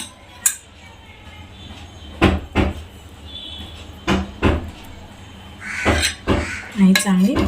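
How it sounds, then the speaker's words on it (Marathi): Misal curry with sprouted moth beans and fresh coriander being stirred in a pot, with a few sharp metal clinks of a spoon against the pot spread through the moment, while a voice speaks nearby. "मिक्स करून घेऊया"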